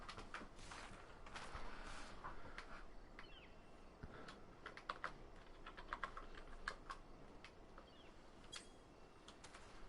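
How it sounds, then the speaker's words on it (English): Typing on a computer keyboard during a Final Fantasy XIV session, a steady run of quick clicky keystrokes with scattered bursts, fairly faint and close, with no talking over it. "Get out the keyboard."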